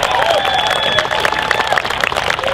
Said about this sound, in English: So I'd like to give all of you guys a round of applause for making this happen.